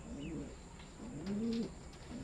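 Pigeons in a loft around a pigeon derby race coo softly in two or three low, rolling bursts, close by against a faint background hiss.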